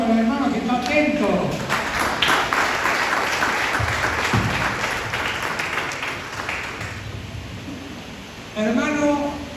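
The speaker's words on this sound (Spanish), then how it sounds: "Un aplauso para el hermano que está atento." A church congregation breaks into applause for a brother during a sermon, a burst of clapping that swells and fades over several seconds, with a voice speaking before and after it.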